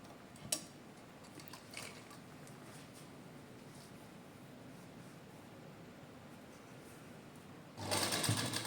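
A sewing machine stitches suit fabric, running with a steady close whirring hum and faint ticks. It rises into a louder burst of stitching at the end.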